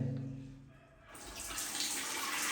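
Running water starts up after a second, a steady broadband hiss from a house's shower that grows loud and fills the rest of the clip.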